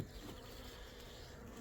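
Honeybees buzzing around a hive, a dense continuous hum close by with no voices.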